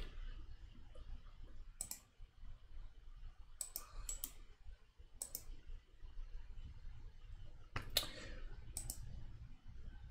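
Several separate sharp mouse clicks, spaced unevenly with a close pair near the end, set against faint low room hum while configuring settings on a computer in a test lab.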